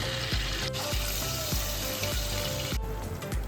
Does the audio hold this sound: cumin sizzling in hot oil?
yes